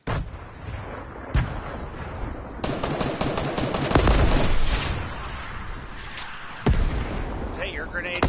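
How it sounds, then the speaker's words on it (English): Gunfire in a multiplayer shooter video game, a sustained barrage of rapid shots and heavy booming blasts with bursts and pops rising and falling over several seconds, loud and close at times. "Somebody just shot at me."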